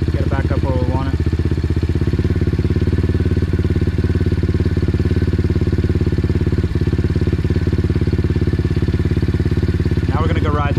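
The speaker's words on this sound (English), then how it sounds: "We'll adjust this idle, get it back up where we want it." Apollo Z20 dirt bike engine after a carburetor upgrade, idling steadily up close with a continuous, loud, even putter throughout, plus a couple of faint higher throttle-blip whines near the start and end.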